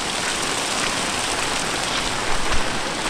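Heavy monsoon rain pours steadily in a Konkan village, a dense unbroken hiss of drops hitting surfaces, loud and close.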